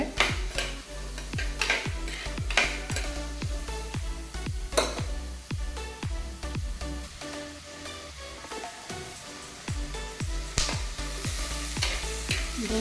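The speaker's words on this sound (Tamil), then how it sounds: "நல்லா வதங்கிட்டே இருக்குது." Jackfruit seeds and finely chopped potato sautéing in a home kitchen pan for a karakulambu, with a steady sizzle under repeated scraping and stirring clicks of a spoon against the pan, close and fairly loud throughout.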